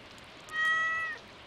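A single drawn-out cat meow from the video game Stardew Valley with a clean, tonal quality, rising over a steady hiss of background noise, about half a second long.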